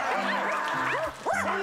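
People on a studio talk show imitate dogs barking, giving several yelping, wavering barks in quick succession, loud and close, over a busy background.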